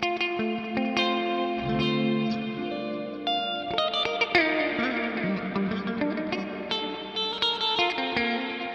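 Heavily distorted electric guitar, a Strandberg Boden Sarah Longfield Edition, plays sustained chords and single notes, with reverb and effects coloring the tone, no voices.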